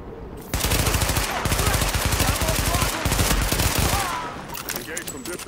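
Sustained automatic gunfire in The Division cuts in sharply and drives on for about four seconds as a rapid, even stream of loud shots, then fades into softer game ambience.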